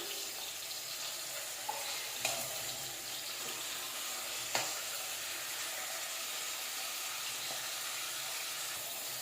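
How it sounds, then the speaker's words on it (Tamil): Onions and tomatoes deep-fry in oil in a pan for Maggi noodles, giving a steady, faint, even sizzling hiss with a couple of small pops. "இப்போ வந்து நல்லா டீப் ஃப்ரை கொடுத்துக்கலாம் வெங்காயம் தக்காளிக்கு"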